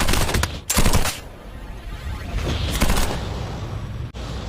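Rapid bursts of continuous gunfire from an anime scene crackle loudly in repeated volleys, with short gaps between bursts and a faint high tone running underneath.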